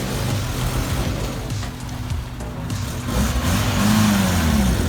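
A car engine revs and rumbles as the vehicle pulls away, its mid-pitched drone shifting and fading slightly over a few seconds outdoors.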